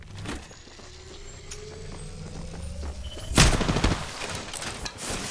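Gunfire in the video game Apex Legends: a low rumbling game soundscape with faint distant shots, then a loud burst of fire midway that tails off, followed by more scattered rumbling action.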